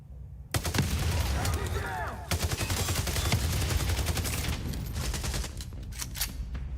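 Explosive barrels blowing up in a mobile Division-style shooter game, a dense run of loud booms and crackling blasts that barely pause, one after another.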